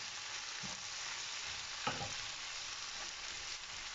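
Saltfish with pepper fries in a hot pan, a steady close sizzle broken by a few soft scraping knocks as a spoon stirs it around.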